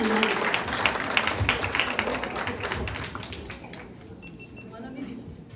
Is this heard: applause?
yes